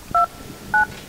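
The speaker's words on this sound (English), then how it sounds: "Can you dial something?" Telephone keypad dialing tones, two short, loud dual-tone beeps about half a second apart, clean and close.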